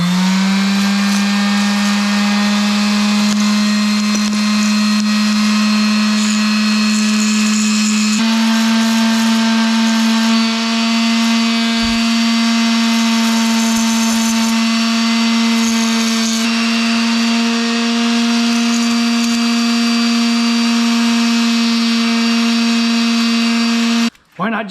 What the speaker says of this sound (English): I got me a sander. We're just gonna take this sucker and we're just gonna sand.